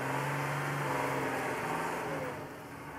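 Mercedes-Benz Unimog engine labouring up a 60% slope with steps, a steady mid-pitched drone with a low hum, loud and continuous throughout, easing slightly toward the end.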